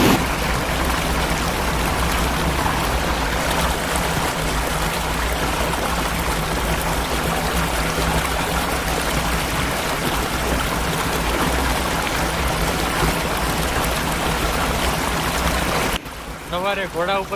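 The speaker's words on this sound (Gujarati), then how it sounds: "પાણીનો અવાજ આવે છે." Mountain stream water rushing steadily along the Kedarnath trail in Uttarakhand, a loud continuous broadband wash that stays unbroken for most of the stretch before dropping away near the end as music comes in.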